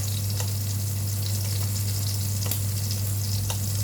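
Scallops fry in butter in a pan with a steady, close sizzle and a few sharper pops and crackles, all under a constant low hum and with no voices.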